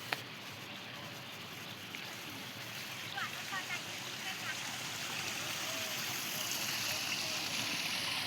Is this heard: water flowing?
yes